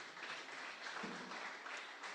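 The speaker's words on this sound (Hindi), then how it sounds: "जिंदा खुदा के लिए जोरदार तालियां भाई और बहनों।" Applause from a church congregation during a Sunday service, soft and distant, steady clapping for a couple of seconds without speech.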